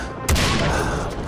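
Gunfire in the video game Far Cry 3 Blood Dragon: one loud, sharp shot bursts out and leaves a dense, rumbling crackle of continued firing and echo behind it.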